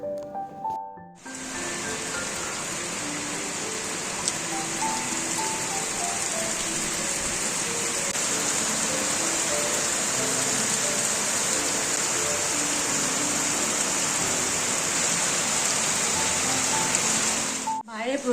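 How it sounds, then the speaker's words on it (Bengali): Heavy rain falls outside a house, a loud, unbroken roar of pouring water that runs steadily throughout, with faint tonal sounds and possible voices mixed underneath. "বাইরে প্রচণ্ড জোরে বৃষ্টি হচ্ছে,"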